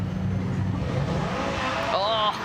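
A rally car, an Audi Quattro, roars past on a forest rally stage, its engine note loud and close with a rising, revving pitch toward the end, over crowd and commentary-like voices.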